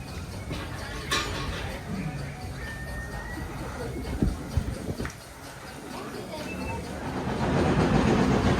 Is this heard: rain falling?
no